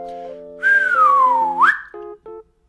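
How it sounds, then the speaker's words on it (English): A child's single clear whistle slides slowly downward and then flicks sharply up, with brief soft musical tones heard before and after it, in a preschool music class. "we're gonna try to whistle and get smaller"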